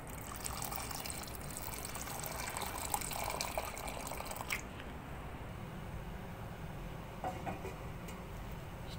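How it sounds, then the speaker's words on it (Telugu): Water pours into red lentils, a quiet trickle and gurgle that swells, then cuts off partway, followed by faint splashes and handling noises. "నీళ్ళు వేసుకోవాలండి."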